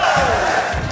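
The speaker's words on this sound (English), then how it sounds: "the French crowd is erupting in cheer" A French crowd at a Super Smash Bros. Ultimate tournament roars and cheers in one loud, sustained, dense wave of voices that fills the whole moment.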